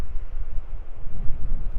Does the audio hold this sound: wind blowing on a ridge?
yes